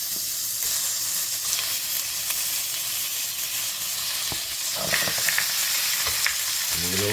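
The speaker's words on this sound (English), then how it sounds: "So I'm going to drop all the duck in." Steady, dense sizzling of duck pieces frying in a hot pan, a constant crackling hiss with a few louder spits and pops toward the end.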